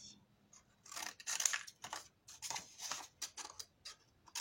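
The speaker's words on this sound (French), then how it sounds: "J'ai oublié de couper ici." Paper being snipped with scissors while a mini album is assembled by hand: a series of close, crisp cutting snips in irregular bursts, some short and some drawn out, with quiet pauses between them.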